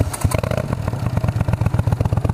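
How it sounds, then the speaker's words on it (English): Honda CX500 cafe racer motorcycle exhaust, close and loud, with a rapid, steady run of throaty firing pulses as the bike rides and revs, no voices. "let's bring you along, see how it sounds on the bike."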